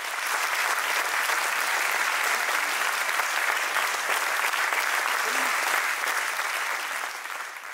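Hikers applaud together at the close of a 100 km walk on the sentier to Mont Saint-Michel, a steady, dense patter of many hands that holds evenly for several seconds before tapering slightly at the end.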